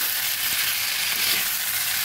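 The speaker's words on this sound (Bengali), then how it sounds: "ভালো করে মিশিয়ে দিচ্ছি।" Vegetables are stirred and fried in a pan, giving a continuous close hiss of sizzling oil with a few faint stirring touches underneath.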